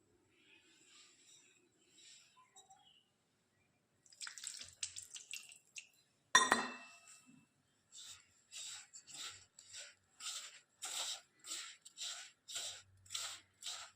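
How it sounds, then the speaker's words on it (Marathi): Water is poured into a semolina mixture for sesame karanji dough, and the mix is crumbled by hand: faint rustling, a brief louder splash and pour, then a steady run of soft, rhythmic wet squishes close by, with no talking. "आता आपण पाणी टाकून चुरून घेऊ."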